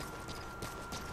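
Horse hooves clip-clop at a gallop in the open-world stealth game Metal Gear Solid V: The Phantom Pain, a steady brief run of hoofbeats close by under game ambience.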